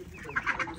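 Chickens let out of their coop clucking in a quick, brief burst of a few squawky calls, fairly close.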